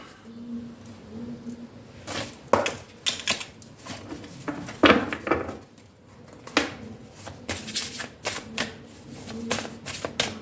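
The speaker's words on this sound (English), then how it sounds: "I'm also going to take out your advice cards before we begin." Tarot cards are shuffled and drawn by hand on a table. Close, crisp taps and flicks come in irregular clusters across the whole stretch, with no talk.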